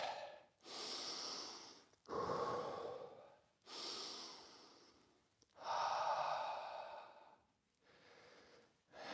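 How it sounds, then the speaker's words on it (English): Several slow, deep breaths after a set of high jumps during a Shotokan karate session, each long inhale and exhale audible up close in a steady rhythm with short pauses between. "Couple of deep breaths."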